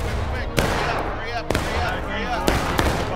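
Rifle volleys crack out in a line battle in the video game War of Rights, several sharp, loud shots spaced a second or so apart while voices talk underneath.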